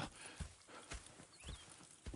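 Horses clip-clop at a walking pace in Red Dead Redemption 2, a few soft, evenly spaced hoof thuds close by, fairly quiet with light ambient noise and no talking.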